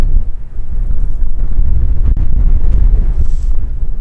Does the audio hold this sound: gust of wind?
yes